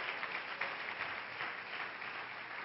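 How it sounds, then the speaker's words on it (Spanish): Congregation applauding during a church service, a continuous, moderately faint patter of many hands clapping without pause. "Dale ese aplauso a la gloria del Señor."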